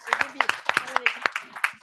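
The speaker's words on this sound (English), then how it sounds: "Round of applause for Betsy Gotbaum." Audience applause, a short burst of sharp rhythmic hand claps, fairly close, with talk over the top.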